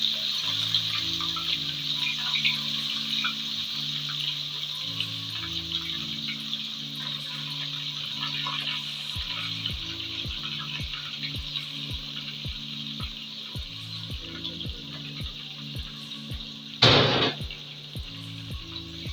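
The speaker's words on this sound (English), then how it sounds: "I'm going to stir this, allow it to fry for some minutes" Onion and garlic frying in hot oil for a Nigerian chicken vegetable stew, a faint, steady sizzle under soft background music, with one brief louder hiss near the end.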